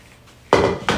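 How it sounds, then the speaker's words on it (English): A spoon scraping and knocking in a pot while stirring macaroni and cheese, two distinct clanking strokes about a third of a second apart, close and clear. "Stir it really good so all the macaroni is covered with the cheese."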